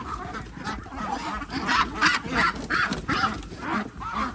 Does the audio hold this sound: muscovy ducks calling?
yes